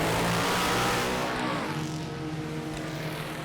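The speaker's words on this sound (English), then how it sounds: "NHRA drag racing is racing nitro funny cars at the top level of the sport." Nitro funny car drag racing at top NHRA level: a thunderous, close engine roar that fades away as the car launches down the strip, leaving a quieter rumble behind.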